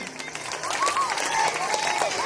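Children at a school Republic Day celebration clap for performers, a scattered, brisk patter of hands throughout. An adult's high, sliding voice carries over the clapping.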